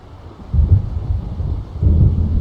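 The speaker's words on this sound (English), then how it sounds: "It seems there's a storm coming." Thunderstorm in Alan Wake Remastered, with two heavy low rumbles of thunder rolling in close succession over a bed of wind and rain.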